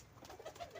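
A pair of newly hatched pigeon chicks make faint, short calls in quick succession. The sound is quiet and close, with no talking over it.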